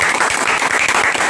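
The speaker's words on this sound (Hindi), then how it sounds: "इनके लिए फिर से एक ताली हो जाए" Brief burst of dense clapping from a classroom audience cheering a student in a computer hardware course, loud and close throughout.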